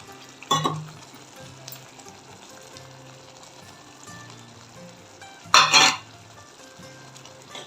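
Brinjal gravy simmers in a pan with a low, steady bubbling sizzle, broken by two loud, close scraping bursts as a spoon stirs it against the metal.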